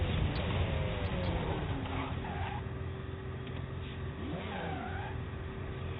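A Lexus LFA engine in Forza Horizon 5 drones steadily and loudly throughout, with pitch shifting as the car revs and turns, alone without talk.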